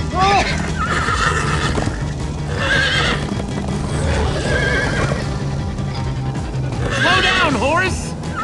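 Several horses neigh and whinny loudly in Minecraft: Story Mode, the cries coming in bursts over steady clip-clopping hooves at a gallop, with game music and voices mixed in throughout.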